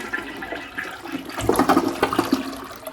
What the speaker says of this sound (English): Okay, so let's flush the water.